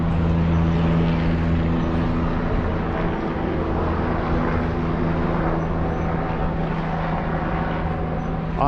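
A King County helicopter flying overhead above a park encampment in Seattle, a steady loud engine drone with sustained low harmonic hum and rotor throb lasting throughout, no talk.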